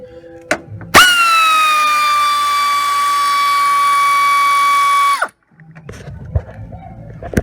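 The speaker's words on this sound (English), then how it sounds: "Granted, I'm using air. Sorry about the noise." A pneumatic air tool removes bolts on a 2007 Honda Civic during AC compressor and dryer work, giving a loud, close, steady whine for about four seconds before cutting off, with brief workshop clatter on either side.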